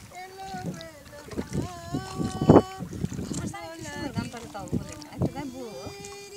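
A boat moves along the water near Karotia Para in Tangail, Bangladesh, with soft splashes and movement sounds partly buried under nearby people talking.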